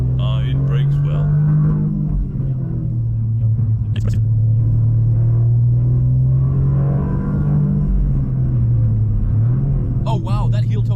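Toyota GR Yaris rally car on a track, its engine a loud, steady low drone that dips in pitch briefly as it brakes into a big braking zone, with voices talking inside the cabin.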